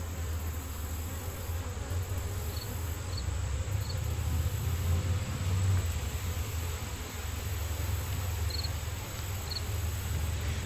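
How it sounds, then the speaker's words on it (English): A dense crowd of honeybees hums around an open hive during a frame inspection, a steady close drone with occasional individual bees zipping past, continuous and fairly loud with no talking. "It can get tough when there's a ton of bees."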